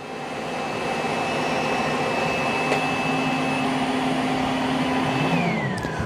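An iRobot Roomba J9+ robot vacuum self-empties into its base, a steady loud whooshing suction roar with a high whine that holds for several seconds, then drops in pitch and winds down near the end.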